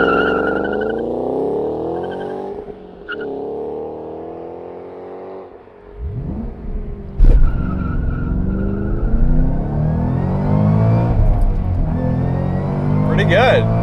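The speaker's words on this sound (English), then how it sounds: "Floor it, dump the clutch, and traction control should take over." A 2013 Ford Shelby GT500 Mustang with a manual gearbox launches hard from a standing start, its engine roaring loudly as the tires squeal and the revs climb through a gear change, with voices talking over it.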